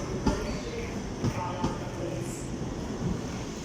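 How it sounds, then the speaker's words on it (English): Inside a busy passenger train bound for London King's Cross, a steady low rumble of wheels and carriage noise runs throughout, with occasional soft clunks and faint murmuring voices of passengers. "It's quite a busy train."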